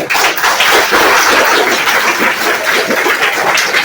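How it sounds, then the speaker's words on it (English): An audience at an engineering college event applauds in a dense, steady wash of many hands clapping at once, loud and unbroken from start to end. "Clap."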